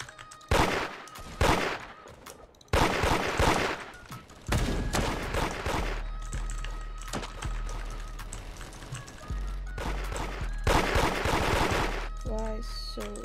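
Loud bursts of gunfire in the Roblox game Da Hood come in several clustered volleys, separated by brief gaps, with sustained rumbling and some tonal game sounds between them.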